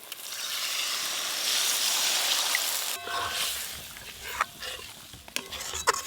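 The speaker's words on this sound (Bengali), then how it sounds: "তেল কই রান্নার জন্য মশলা কিন্তু খুব ভালো করে কষে নিতে হবে।" Masala for tel koi fish curry being sautéed in oil, a soft steady sizzle for the first half, then intermittent scraping stirs of a spatula in the pan over a quieter hiss.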